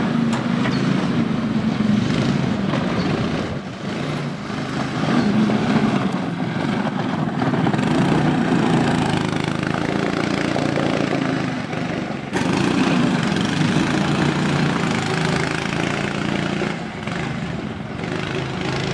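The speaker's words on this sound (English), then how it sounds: "See if we can get this engine running." A small Honda engine on a cyclekart runs steadily and loudly up close, a buzzing mower-like drone that dips briefly a couple of times.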